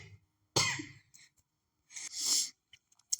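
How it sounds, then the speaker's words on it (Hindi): Two harsh coughs, one after the other with a short pause between, close to the microphone in an otherwise quiet room. "सॉरी दोस्तों, थोड़ी सी खांसी हो रही है"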